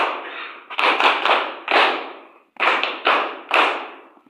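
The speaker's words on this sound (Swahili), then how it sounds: "Wapigieni makofi." Applause at a political party rally, heard as about seven short bursts of clapping, each rising and fading quickly, fairly loud and close, with brief gaps between them.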